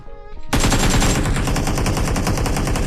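Rapid automatic gunfire in the battle royale game PUBG Mobile, a loud sustained burst of close shots that starts abruptly after a short quiet lead-in and keeps a fast even rhythm.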